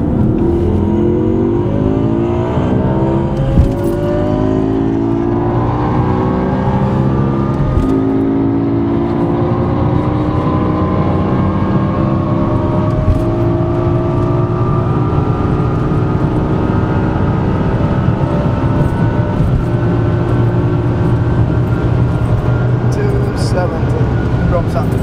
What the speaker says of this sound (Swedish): we start from second gear in the M5 because of traction